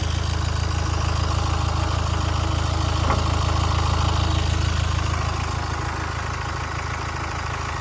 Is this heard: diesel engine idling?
yes